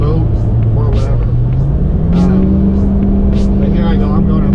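A 6.0 Powerstroke diesel truck engine labors loudly up a hill while towing 12,000 lbs, its deep drone rising steadily in pitch as it works.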